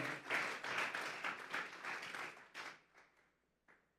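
A church congregation claps during a sermon, a rhythmic, fairly close round of applause that fades out after a few seconds into a couple of last isolated claps.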